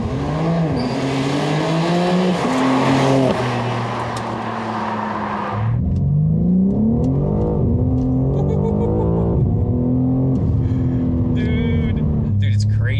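A stock BMW G80 M3 accelerating hard from inside the cabin, engine note climbing steadily through the gears with brief dips at each shift, loud and close throughout.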